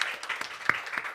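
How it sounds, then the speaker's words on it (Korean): Scattered claps from a congregation at a Friday night prayer meeting in a Korean church, quiet and brief, with a few sharper individual claps standing out from a soft patter. "우리 그 주님께 감사와 영광의 박수를 올려드립시다."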